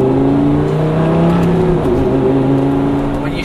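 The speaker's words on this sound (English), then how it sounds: "naturally aspirated V10, sounds absolutely incredible. This car has no mufflers." Lamborghini Gallardo naturally aspirated V10 running with no mufflers, a loud steady engine drone held at high revs from inside the car, rising slightly in pitch as the throttle is held.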